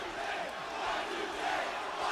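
A wrestling arena crowd at Bad Blood 2003, during Goldberg vs. Chris Jericho, keeps up a steady, broad roar that swells slightly toward the end.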